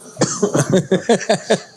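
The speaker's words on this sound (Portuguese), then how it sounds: "É que eu tô com tossinha mesmo" A quick run of short, harsh coughs, close and loud, coming in a steady rhythm of about seven bursts.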